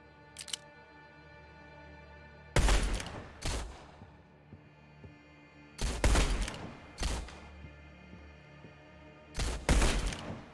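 Gunfire in the video game Blood West: several loud, sharp bursts spaced a second or two apart, some doubled in quick succession, over a quiet low background hum.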